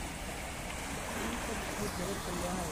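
River water pours into a circular pond in Lumbini after heavy rain, a constant broadband rush that is steady and fairly near, with a voice talking faintly underneath.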